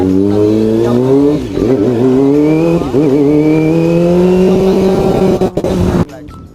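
Motorcycle engine revving loud and close while riding, pitch climbing and dipping through gear shifts before cutting off sharply near the end.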